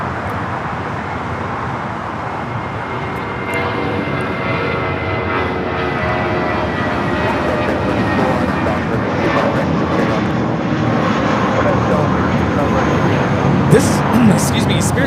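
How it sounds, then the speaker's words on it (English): A Spirit Airlines Airbus A320 taking off from LAX for San Antonio makes a loud continuous jet roar that builds slowly over the span, with faint whining engine tones above it. "Spirit Airlines 594 taking off to San Antonio on the A320"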